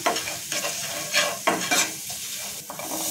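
Turmeric, cumin and coriander powder are sautéed in a pan for aloo matar kachori filling, giving a steady close sizzle broken by the scrape and clatter of repeated stirring, with no talk.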